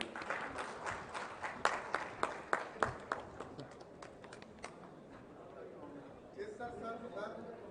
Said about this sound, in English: Can we have a great round of applause, please?